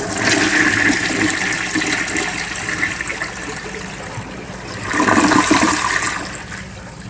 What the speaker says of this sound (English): It's not going to be a full flush because I have things in.